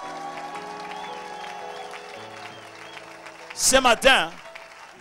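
A church congregation breaks into a short, loud burst of clapping and cheering lasting about a second, following quieter sustained tones and a voice.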